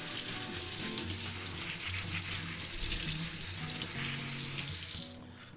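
Carrots are scrubbed clean with a disposable scouring pad under a running kitchen tap, the water gushing steadily into the sink with rubbing sounds, then cutting off near the end.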